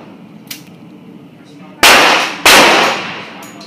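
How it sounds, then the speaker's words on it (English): Taurus Model 66 revolver firing 148 grain wadcutter ammunition at an outdoor range, two loud sharp shots less than a second apart after quieter background noise. "going to shoot my Taurus Model 66 with 148 grain wad cutter ammo"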